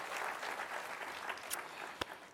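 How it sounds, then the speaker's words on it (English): A crowd claps steadily in a moderately distant room, the applause thinning out toward the end with a couple of sharper claps. "I think that deserves a big round of applause."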